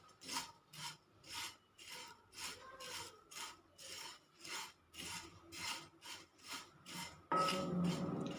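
Brown flattened rice (aval) dry-roasted in a pan, a rhythmic dry scraping rasp as a spatula stirs it, about a dozen even strokes close up, ending in a louder, harsher burst of sizzle and scraping.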